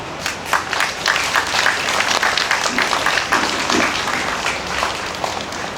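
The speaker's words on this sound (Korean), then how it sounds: "다시 한번 뜨거운 박수 부탁드리겠습니다" Audience at a Korean memorial ceremony for COVID-19 vaccine victims claps in sustained, dense applause for several seconds, loud and close, with a faint voice underneath.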